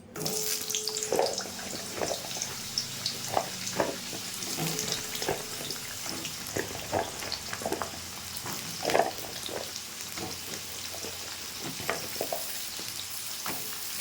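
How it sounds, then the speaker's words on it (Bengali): Pointed gourd fries in hot refined oil in a kadai, sizzling steadily up close with intermittent scraping and stirring clicks. "তেলটা গরম হয়ে গেছে, পটলটা আগে ভেজে নিচ্ছি।"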